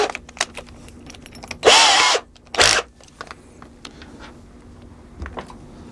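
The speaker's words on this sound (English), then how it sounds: "And drill a test hole so that you can see what happens." A power drill bores a 7/32-inch test hole into 1/2-inch BC plywood in two short, loud whirring bursts close up, with light workshop handling noises around them.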